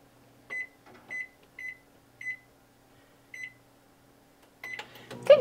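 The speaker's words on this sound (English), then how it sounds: "you just turned on the microwave" A kitchen microwave oven gives a series of five short, clear electronic beeps at a steady rhythm as its keypad is pressed, then a louder burst of clatter and noise at the end, with a faint steady hum underneath.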